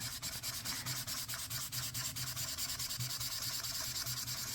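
A chisel-tip marker colouring over paper in repeated overlapping strokes, a close, steady, rhythmic scratchy rubbing that continues without pause; no voices.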